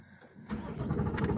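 A Chevrolet Corvette C8 engine starting up: near silence, then the engine fires abruptly and settles into a loud, rumbling idle close by.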